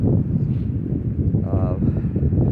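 Steady, gusty wind buffets the microphone on a cold mountain ridge near Lolo Pass on the Pacific Crest Trail, a low continuous roar, swelling slightly now and then.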